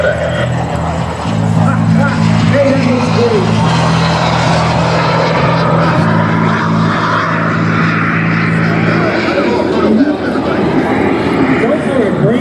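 A small jet aircraft flies overhead, a steady broad roar holding at constant loudness throughout with a low droning hum in parts, while people talk over it outdoors.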